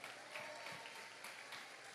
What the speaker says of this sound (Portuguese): Uma salva de palmas para o Bom Sucesso